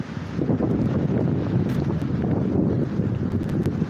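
Strong wind buffets a microphone outdoors, a continuous loud roaring rumble with no letup and no voices.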